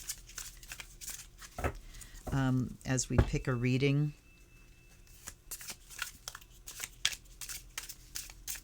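Quick, papery riffles of tarot cards being shuffled repeatedly, close up, with a person speaking briefly partway through.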